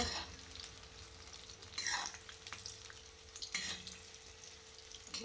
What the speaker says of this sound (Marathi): गोल्डन कलर येऊपर्यंत छान तळायचे मस्त खरपूस भाजून घ्यायचे असे तेलामध्ये